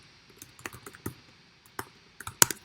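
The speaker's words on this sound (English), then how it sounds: "Here we type conda activate base." Light, irregular key presses on a Mac computer keyboard as a command is typed into a terminal, close and crisp, with a sharper final tap like pressing return.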